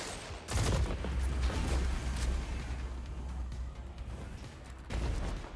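Bygones pulse rifle in a video game, dense rapid bursts of gunfire rattling continuously with a low rumbling body, close and steady, briefly pausing before another volley starts.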